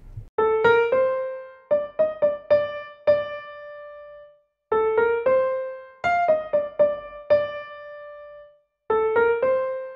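Piano right hand plays the melody of a Tamil song alone, short phrases of clear struck notes with sustained final tones and brief pauses between phrases, close and clean.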